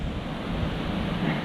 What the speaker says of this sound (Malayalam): നിങ്ങളിതെല്ലാം കാണുന്നുണ്ടോ? ഈ കാറ്റും മഴയും.